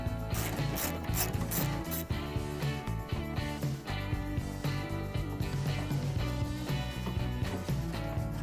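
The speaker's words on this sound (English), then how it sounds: "The first step is to remove the bolts that hold the fender brace on, and you'll need your 13mm wrench for that." A 13mm wrench ratchets off the fender brace bolts on a 2008-or-later Chevrolet Silverado or GMC Sierra, giving steady, close mechanical clicking and rattling that runs continuously throughout.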